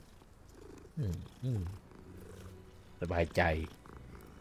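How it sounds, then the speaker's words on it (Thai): Purring of a cat being petted in the video game Hogwarts Legacy, a soft steady rumble running through the whole stretch, with someone speaking briefly over it twice. "เจอแมวขอแวะจับลูกหัวหน่อย"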